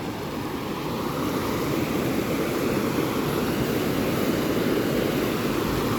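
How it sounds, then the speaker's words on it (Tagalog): Strong current rushing over a dam, a dense, steady roar of water that fills the whole scene continuously without pause or talk. "Lakas ang agos ng guys. Ito pala yung pinaka parang dam."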